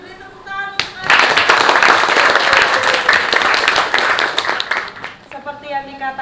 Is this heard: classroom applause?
yes